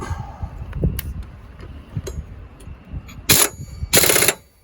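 Power tool tightening the blade bolts on a Husqvarna YTH24K48 riding mower, two short loud rattling impact bursts near the end after quieter clatter and handling noise.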